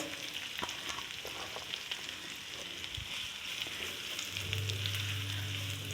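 Masala and onion frying in a pan for paratha filling, a steady close sizzle with occasional stirring scrapes and a low hum rising late, no talking.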